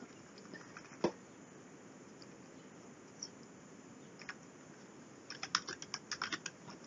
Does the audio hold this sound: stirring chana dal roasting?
no